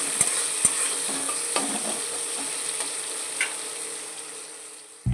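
Potatoes frying in hot oil make a steady, high, hissing sizzle with a few sharp clicks and small pops, gently fading toward the end, close by and without talk.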